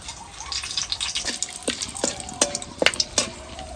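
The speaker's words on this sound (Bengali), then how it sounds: "এবার দিয়ে দিচ্ছি ফোড়নেতে তেজপাতা এলাচ দারচিনি লবঙ্গ" Whole spices, bay leaf, cardamom, cinnamon and clove, go into hot oil in a pan, giving a steady soft crackle and sizzle with a few sharp utensil scrapes and taps near the end.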